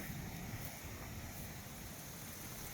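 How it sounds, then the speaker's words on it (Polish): Stream water at Åmotan, where four rivers meet, makes a steady, even, distant rushing wash that stays unbroken throughout. "słyszę dźwięk wody"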